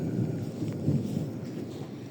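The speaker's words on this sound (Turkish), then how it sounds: "Gök gürleyebilir." A low, continuous rumble of thunder on a rainy evening rolls on with a soft wash of rain-like noise, no voices.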